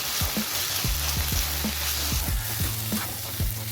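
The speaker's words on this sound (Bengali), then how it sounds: "এবার দিয়ে দিলাম ক্যাপসিকাম কুচি, পেঁয়াজ কুচি দিয়ে ভালো করে নাড়াচাড়া করে রেডি করে নিলাম।" Chicken, capsicum and onion stir-fry in a frying pan, a loud, steady sizzle punctuated by rhythmic spatula scrapes and taps about every half second.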